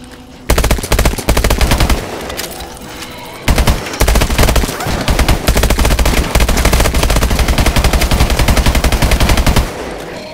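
Sustained machine-gun fire from Call of Duty Exo Zombies roars loud and close in rapid continuous bursts, with a brief pause near the start and another around the three-second mark, and no talk over it.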